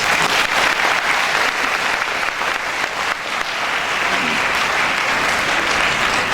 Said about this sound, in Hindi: ताली बजाने का टाइम।